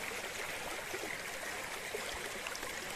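River water rushes steadily over stones in a forest stream, a dense continuous wash heard up close, with no splash of a step standing out.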